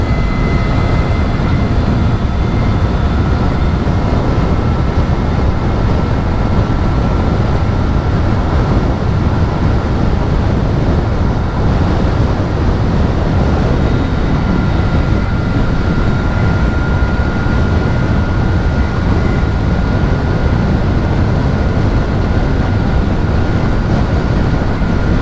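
A Tork Kratos R electric motorcycle, 2023 model, rides at speed in sports mode, giving a loud, continuous rush of wind and road roar with a faint motor whine, steady and unbroken.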